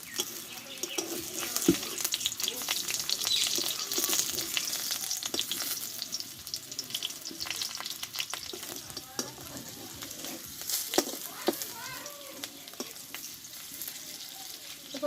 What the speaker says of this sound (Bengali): এভাবে চ্যাপটা চ্যাপটা করে নিয়ে আমি তেলে ভেজে নেব